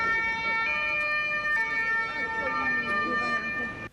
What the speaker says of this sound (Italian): Il suono delle sirene ne precede l'arrivo.